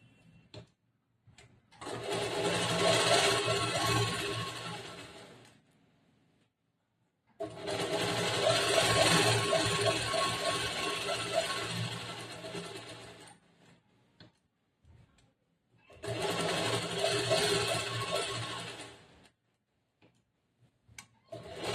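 A sewing machine stitches the lining fabric of a bordered blouse in three long runs of rapid, even needle clatter, each several seconds, separated by short pauses; close and clear with no talking.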